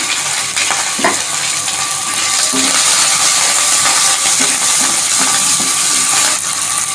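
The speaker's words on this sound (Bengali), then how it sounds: "এবারে কিছু কুচো চিংড়ি দিয়ে দিলাম কুচো চিংড়ি দিয়ে দিয়েছি" Small shrimp frying with dried red chillies in a hot pan, a steady broadband sizzle with occasional stirring clicks and taps, close and fairly loud throughout.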